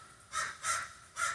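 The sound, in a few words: crows cawing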